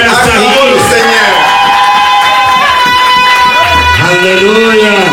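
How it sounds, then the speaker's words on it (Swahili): A church congregation clapping and loudly acclaiming God at a New Year service, with many voices rising and falling together in a dense, close, continuous roar. "tumupigie Mungu makofi na acclamons le Seigneur"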